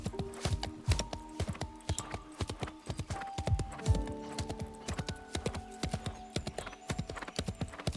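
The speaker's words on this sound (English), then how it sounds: "He remains calm and spurs the horse forward." Horse hooves clip-clopping steadily at a forward pace on a battlefield, a continuous rhythmic run of hoofbeats with tonal music layered over it and a brief whinny-like trace.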